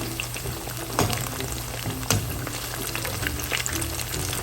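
Fish pakora pieces deep-fry in hot oil, a close, steady bubbling sizzle with a couple of faint knocks as the pieces are moved.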